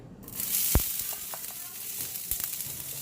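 Onion dropped into a hot pan of herbs for Jamaican beef patties, a steady close sizzle with a sharp clatter at the start and a few stirring knocks.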